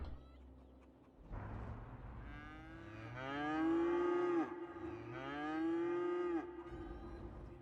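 Cattle low twice in the Cities: Skylines video game, two long drawn-out moos a few seconds apart, fairly close and clear against a quiet, faint background.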